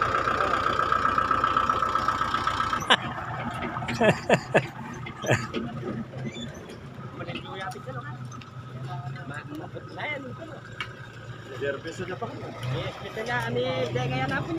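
A low, steady truck engine idles throughout while several people talk nearby, with a few sharp knocks and clatters partway through.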